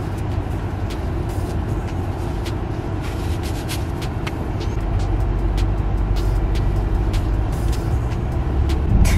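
A BMW 750i M Sport 7 Series pulls away and cruises, its steady engine and road rumble droning close and loud, building gradually with tire and wind noise, no voices.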